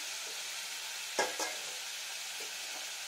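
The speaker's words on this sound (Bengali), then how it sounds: "জিরেটা একটু ভাজা ভাজা করতে হবে" Cumin seeds frying in a pan for a potato and pointed gourd dish give a steady, even sizzling hiss, with two brief scraping stirs midway.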